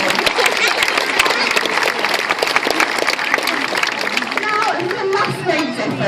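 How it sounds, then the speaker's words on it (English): Audience at a sea lion show at West Midlands Safari Park claps loudly and continuously, dense applause with crowd chatter beneath. "so let's give him a round of applause"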